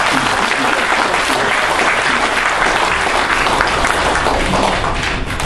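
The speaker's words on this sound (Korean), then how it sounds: "여러분 박수 한번 보내주세요" An audience at an academic conference bursts into loud, dense, sustained applause that stays even and close throughout.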